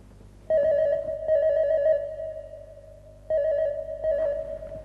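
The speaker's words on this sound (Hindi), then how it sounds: "अनीता, मैं जानता था कि तुम्हारा फोन जरूर आएगा।" A telephone rings in an indoor crime-drama scene, giving two loud, steady double-pulse rings close by with a short gap between them and no talking.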